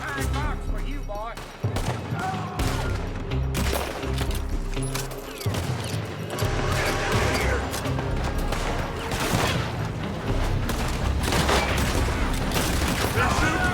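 Gunfire erupts in a Red Dead Redemption 2 shootout, with repeated loud shots and volleys cracking close and far amid dense battle noise, voices shouting among the blasts.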